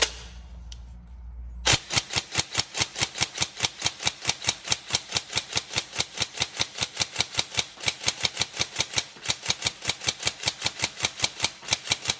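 An upgraded Tokyo Marui MK18 NGRS airsoft rifle fires a long, rapid string of sharp, evenly spaced shots, loud and close, after a short stretch of quiet handling noise.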